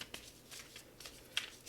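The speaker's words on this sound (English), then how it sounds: "So we're shuffling the cards." Deck of tarot cards being shuffled during a reading: soft, quiet riffling flicks in a quick uneven run, close by, with no talk.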